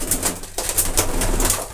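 A white pigeon chick coos close by in soft, repeated low murmurs, with a few faint higher chirps over a steady background and no talking.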